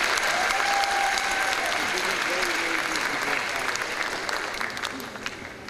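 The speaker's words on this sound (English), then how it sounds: "Let's have a round of applause for our parents," Audience applause at the Yeshivah of Flatbush Joel Braverman High School class of 2016 graduation, given for the graduates' parents: sustained dense clapping from a large crowd that carries on steadily and tapers slightly near the end, with some voices mixed in.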